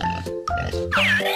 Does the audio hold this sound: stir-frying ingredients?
no